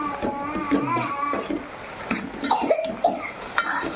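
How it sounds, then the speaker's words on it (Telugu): A young child coughs a few times indoors at home, short harsh bursts spread through the clip, while other people speak nearby. "దగ్గుతుంది."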